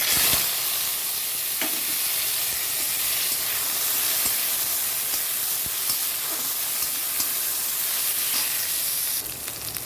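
Bitter gourd pieces fry in hot oil in a pan with a loud, steady crackling sizzle and hiss that fills the whole stretch without pause.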